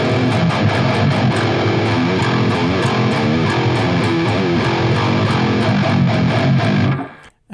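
Heavily distorted electric guitar on a basic metal-tone preset in drop E tuning, chugging low riffs loud and dense throughout before cutting off sharply near the end.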